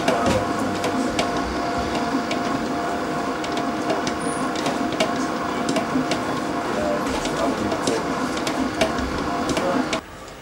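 A dough mixer machine kneads brown bread dough with a steady mechanical whir and rattle, plus regular clicks and knocks from the moving parts, running loud and close until it drops off abruptly at the end.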